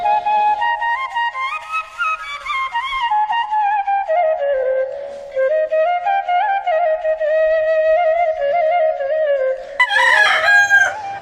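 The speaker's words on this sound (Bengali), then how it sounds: "একটা মুরগি ধরে নিয়ে আসলাম এটা হচ্ছে একটা দেশি মুরগি পিওর দেশি মুরগি" A desi country chicken, a pure native hen, cackles and crows loudly and continuously as it is caught and handled at close range, its squawks rising sharply into a frantic burst near the end, with no talking.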